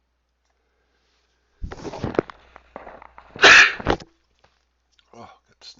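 A single sharp sneeze bursts out close by, preceded by some soft handling noises and a short spoken word, then quiet with a faint rustle afterward.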